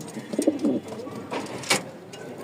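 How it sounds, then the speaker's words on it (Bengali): A pair of long-tailed Lakkha pigeons coos softly and close by, in low repeated murmuring calls over a steady background hum, with a few faint higher chirps. "আর এখানে একজোড়া লং টেলের লক্ষা আছে"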